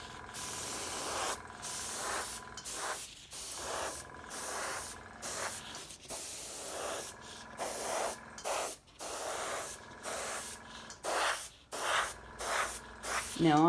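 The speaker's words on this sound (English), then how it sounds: "use it as an airbrush" Airbrush spraying alcohol ink, a close, continuous hiss broken by brief pauses as the trigger is released and pressed again, with no talking.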